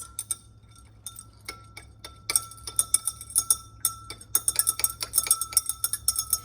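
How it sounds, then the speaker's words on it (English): A spoon stirs large crystals dissolving in water in a glass, giving quick, repeated clinks and ticks against the glass that grow denser and louder as the stirring speeds up, with no talk. "We're stirring because we just proved that that's faster, and I don't want to sit here forever while we wait for this to dissolve."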